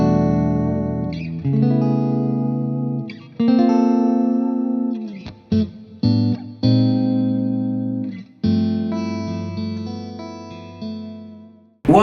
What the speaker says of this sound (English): When you turn on a boost, a clean boost, you feel that the high frequencies have a little cut